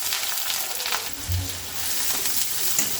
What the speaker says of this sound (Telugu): ఇవి ఫ్రై అయ్యేంత వరకు వేగించుకున్నాము, ఫ్రై చేసుకున్నాము